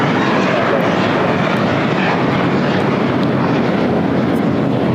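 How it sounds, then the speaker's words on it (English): An American Airlines A321 takes off at LAX with a loud, continuous jet engine roar, a dense even rush that holds constant and close throughout. "American Airlines 1590 taking off to Charlotte on an A321."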